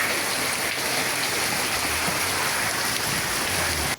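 Heavy storm rain pours continuously with a dense, even hiss and no pauses, loud and close, the kind of downpour that floods streets.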